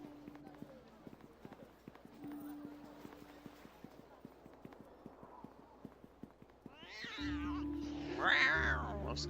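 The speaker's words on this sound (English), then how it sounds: "Those cats are angry cats" Angry cats caterwauling in the video game Neverwinter Nights 2, loud drawn-out yowls near the end over a steady run of clip-clopping footsteps, with a voice talking.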